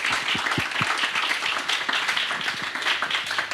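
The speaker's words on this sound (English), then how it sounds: "please join me in a round of applause to all the panelists" Applause for conference panelists at an EU and US policy event: many hands clapping in a dense, steady, fairly close burst that holds throughout the short stretch.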